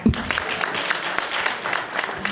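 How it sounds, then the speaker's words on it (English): An audience at a civic leadership forum breaks into applause, a moderate patter of individual claps in the room with a louder clap at the start, continuing steadily throughout. "you can clap for that"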